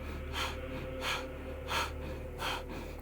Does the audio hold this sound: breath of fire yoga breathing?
yes